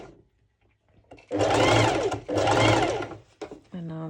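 A sewing machine runs a zigzag seam on a sporty top at roughly stitch width 3, in two loud, close, steady bursts of about a second each with a short pause between, and a voice speaks briefly at the end.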